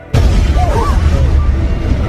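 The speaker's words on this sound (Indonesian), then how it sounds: "sebuah ledakan hebat mengguncang pabrik tempat Yosan bekerja" A powerful explosion at a factory in a film hits suddenly and rolls into a loud, sustained deep rumble, with faint voices over it.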